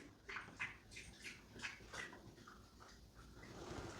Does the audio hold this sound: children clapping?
no